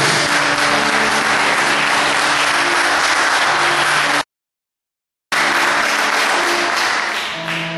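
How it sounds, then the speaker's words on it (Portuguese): A church congregation applauding during a Portuguese-language sermon, a loud, dense roar of clapping that cuts out abruptly for about a second, then resumes just as full. "Aplauda verdadeiramente ao Senhor Jesus."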